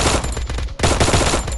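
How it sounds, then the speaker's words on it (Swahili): A heavy gun fires in the Free Fire video game: loud, dense rapid-fire bursts that fill the clip, broken by one brief gap, with no talk. "Sasa kwa bunduki mzito"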